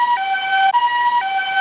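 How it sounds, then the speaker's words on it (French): A two-tone ambulance siren from a 2005 VTech Ma Ville Alphabet electronic toy alternates between a high and a low pitch in a steady electronic wail, loud and alone, with no talk. "A comme ambulance."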